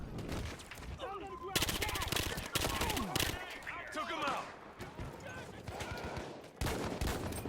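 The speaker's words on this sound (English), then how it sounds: "it's essentially a rapid firing machine pistol with a mag size of 30 rounds" Rapid automatic fire from a machine pistol sidearm with a 30-round magazine in a Battlefield shooter game, heard as dense bursts of shots that start and stop over a busy mix with overlapping voices.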